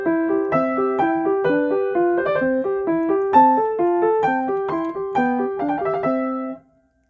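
Mozart sonata on piano, played with deliberate breathing: a steady flow of clear, close melodic notes over a repeating accompaniment, even and sustained for about six seconds before stopping, with no voices.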